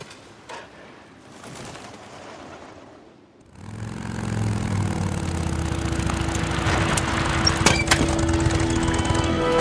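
Motorcycle engine from the video game Days Gone starting up after a quiet stretch, then idling steadily with a low rumble, growing slightly louder, with occasional sharp mechanical clicks.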